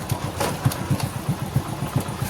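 A motorcycle engine idles close by in a temple parking area, its regular low putt-putt pulses chugging at a steady rhythm.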